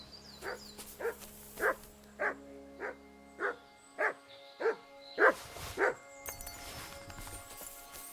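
A dog in the Kingdom Come Deliverance 2 video game barks in a regular series of about ten sharp barks, moderately near, with faint game ambience behind.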